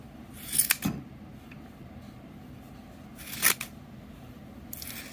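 Scissors snip through the yarn loops of a handmade pom pom, giving two or three short, crisp cuts spaced a few seconds apart, close up and fairly quiet with no talking.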